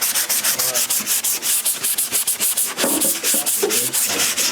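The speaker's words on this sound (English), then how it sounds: "is sanding down the last bits of The very last bit of glazing putty" Hand sanding of glazing putty on the body of an AE86 Toyota Corolla during primer prep, a rapid rhythmic back-and-forth scrubbing rasp, close and steady, with brief pauses between strokes.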